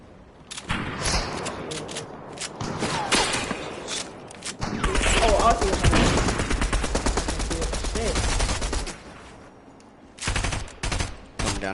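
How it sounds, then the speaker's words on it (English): Gunfire in Fortnite rattles in bursts of rapid shots, close and loud, with a dense sustained volley in the middle and short trailing bursts near the end, while players talk over it. "somebody shooting at me"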